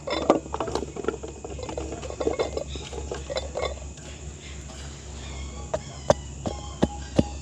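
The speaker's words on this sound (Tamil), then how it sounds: "இஞ்சி உள்ளி சின்ன வெங்காயமும் இதுக்குள்ளே போட்டு இடித்து கொள்ள போகிறோம்" Ginger, garlic and small shallots pounded in a mortar for village-style rasam, a run of sharp, close thuds in an irregular rhythm, busy at first and then sparser, over a steady background hum.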